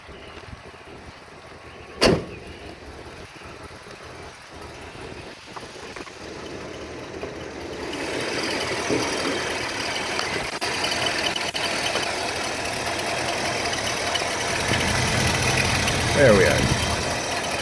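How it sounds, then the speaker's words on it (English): A 1966 Imperial LeBaron with a 440 V8 and Carter 650 carburetor cranks with a sharp click and settles into a steady, fairly loud idle that runs on after a brief word from a man nearby. "when you put the key in the ignition, she starts up and runs fine. It's got a 440 motor underneath the hood"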